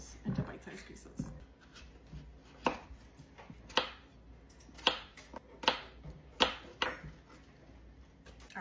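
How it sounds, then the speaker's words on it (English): Granny Smith apples being cut into bite-sized pieces on a board, with a series of sharp, separate knife chops spaced about a second apart, close and crisp over a quiet background. "And now we're gonna cut up 6 Granny Smith apples into bite-sized pieces."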